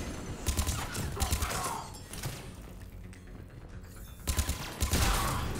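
Rapid automatic turret gunfire in Mass Effect 3 Remastered rattles in dense bursts, loud and close, with short pauses between volleys and game sound effects around it.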